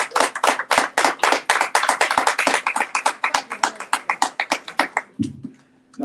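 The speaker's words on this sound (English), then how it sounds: "give the audience a round of applause for showing up" Audience members at a panel discussion clap loudly and distinctly, a dense burst of individual hand claps that thins out and stops near the end, followed by a brief low sound.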